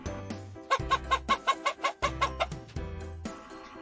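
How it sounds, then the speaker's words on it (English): A hen clucks in a quick series of about a dozen evenly spaced, fairly loud clucks, bracketed by lower rustling sounds, with no talk. "H for hen."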